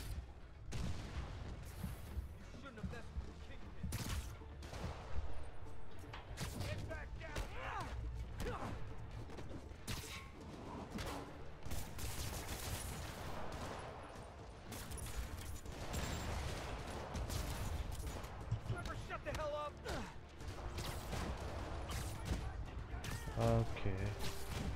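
Missile shooters launch rocket after rocket in Marvel's Spider-Man Remastered on PC, a busy stream of bursts, booms and crashes over a constant rumbling action-game mix, with short voice lines now and then.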